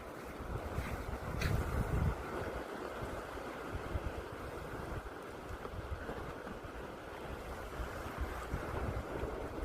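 Sea waves wash steadily onto a beach where fishermen cast nets, a continuous broad surf roar mixed with gusty wind buffeting the microphone, with no talking.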